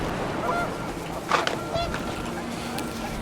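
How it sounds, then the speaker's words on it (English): Panicked geese honking in the video game What Remains of Edith Finch, a few brief honks over wind-like ambience, with a narrator talking over them. "The wind picked up and panicked geese appeared and quickly went."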